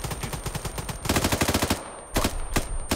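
Gunfire in the video game Arma 3 comes in loud rapid bursts of automatic shots, with brief pauses between strings, heard close and alone without talk.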